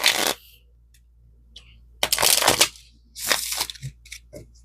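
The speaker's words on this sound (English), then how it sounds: "let me just get a good shuffle in" Riffle shuffles of an oversized 80-card deck, two bursts of crisp flapping and ruffling separated by quiet, close and moderately loud with no voices.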